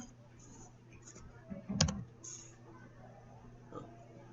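A computer keyboard clicks in a short burst near the middle of an otherwise quiet room, with a few faint keystrokes elsewhere.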